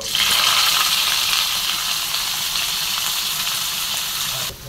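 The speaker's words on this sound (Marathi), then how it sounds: "जिऱ्याच्या नंतर टाकते बघा मी कारले इथे." Bitter gourd tipped into hot oil with cumin seeds sets off a loud, steady sizzle and crackle that holds for several seconds, then cuts off abruptly near the end.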